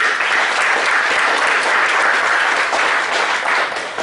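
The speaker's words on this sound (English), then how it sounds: "Let us thank the speaker with a round of applause." Steady, dense applause from a seminar audience thanking a speaker at a GST technical session, continuous crowd clapping with no talk, easing off only at the very end.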